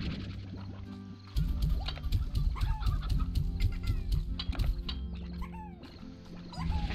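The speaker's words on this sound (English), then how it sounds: "Come here, chickens." Chickens clucking in the video game Slime Rancher, a chorus of close, busy clucks and squawks that keeps up steadily after a short quieter start.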